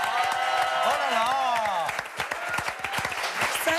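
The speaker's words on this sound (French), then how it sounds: "on peut l'applaudir" Studio audience clapping as a guest arrives on a TV show set, a burst of sharp claps under excited voices and exclamations, close and lively.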